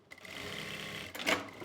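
A sewing machine running a line of stitches along a trouser strip, with a steady fast whirring hum close by that ends in a short sharper clatter.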